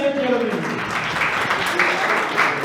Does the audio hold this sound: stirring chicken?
no